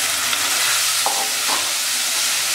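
Cooked peas, mint, salt and sugar frying together in a pan for mint rice, giving a loud, steady, close sizzle with a couple of soft stirring scrapes.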